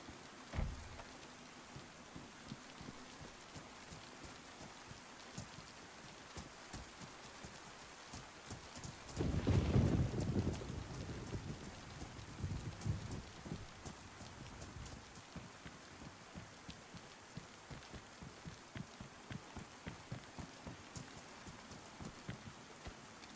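Rain falls over Chernarus in the DayZ video game, a steady patter of drops with a low rumble swelling midway, no voices.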